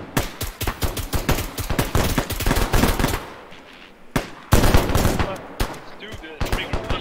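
Dense bursts of automatic gunfire from friendly troops in a military shooter game, rapid rattling volleys close by for about three seconds, a pause, then further sharp bursts and single shots, with faint speech underneath.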